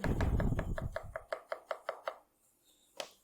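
A kitchen knife slices zucchini on a cutting board, a quick run of crisp chops that settles into about six evenly spaced, clear cuts, ending with one final sharper knock, close and with no talking.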